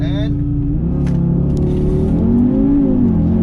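Audi TT RS Roadster's 400-horsepower turbocharged five-cylinder launching from a full-brake start, a loud close growl climbing steadily in pitch as it accelerates, with no talk over it.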